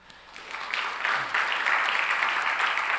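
A church congregation claps during a Sunday worship service, applause building within the first second into steady, dense clapping that fills the room and holds to the end.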